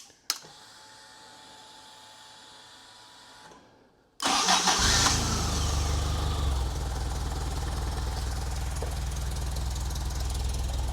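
An Alfa Romeo 2.0L Twin Cam engine with muffler fitted sits quiet under a faint steady hum, then cranks and fires near the four-second mark and settles into a loud, steady running idle.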